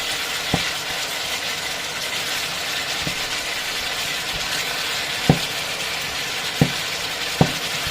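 A soft continuous sizzle of chicken frying in a pan with pineapple juice, with a few sharp clicks or taps of utensils scattered throughout.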